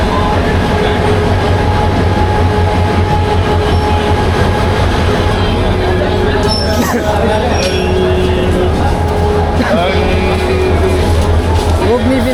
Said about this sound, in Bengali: Agnibina express train 10:20 Mymensingh railway স্টেশনে প্রবেশ করলো।